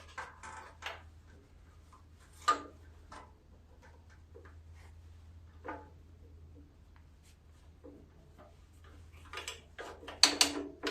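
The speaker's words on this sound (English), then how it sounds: "So my ratcheting wrench would work" A ratcheting wrench works on the shroud bolts of a Wheel Horse tractor, giving quiet, scattered clicks and mechanical ticks at close range with a few sharper metallic taps near the end.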